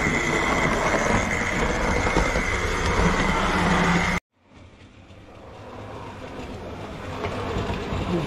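A Hornby model train runs along its track pulling a few carriages, a steady close rolling whir that cuts off abruptly midway, then returns fainter and slowly builds as it approaches again.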